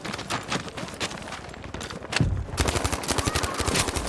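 Sturmgewehr 1.5 rifle fire in a competitive video game match, dense rapid bursts of gunshots crackling loud and continuous, growing heavier and more forceful partway through.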